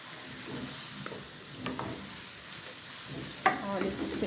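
Garlic seasoning frying in a pan for rice, browning to golden with a steady low sizzle and occasional stirring scrapes and clinks, quiet and close.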